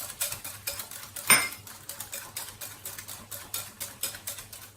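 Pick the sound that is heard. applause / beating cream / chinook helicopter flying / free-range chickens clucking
beating cream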